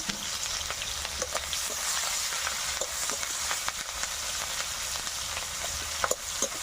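Chopped onion and green chilli fry in oil, producing a constant close sizzle broken by frequent clicks and scrapes of stirring.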